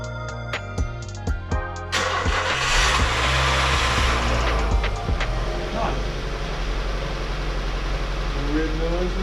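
A '99 Nissan Primera race car engine cranks, catches and starts, then revs and runs loudly at close range, with mechanical clatter and a few voices heard over it.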